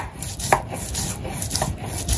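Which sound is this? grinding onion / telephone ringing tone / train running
grinding onion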